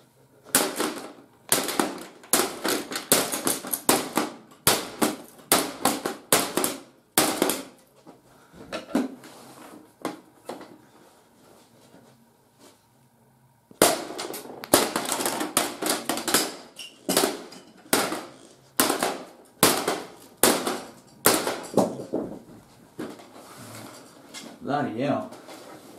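Someone hits and smashes a Canon fax machine/printer hard, sending out rapid volleys of loud, sharp plastic-and-metal impacts. The blows come in two long barrages separated by a brief quieter stretch.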